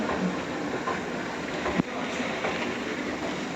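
A small train at a town fair in a city centre rumbles steadily with a constant noisy hum and faint clattering, heard continuously without speech.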